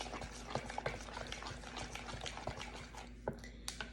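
Wet muffin batter with sugar being stirred in a bowl, a faint, close wet squelching with irregular soft scrapes and taps of the utensil against the bowl, no voices.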